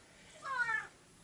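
A house cat gives one clear, fairly close meow, rising and then falling over about half a second, against a quiet indoor room.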